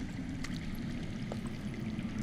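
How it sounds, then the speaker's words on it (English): Underground water flowing in a Game of Thrones video game, a steady low rushing wash like a stream or pouring water, continuous and moderately loud with no talk over it. "I hear water. From underground."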